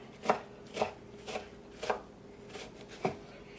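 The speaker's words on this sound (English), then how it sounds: "Just go through it with a knife so you have small" Knife chopping through sautéed eggplant filling on a board, six distinct chops spaced about half a second apart with a short pause before the last, close and crisp with no talk.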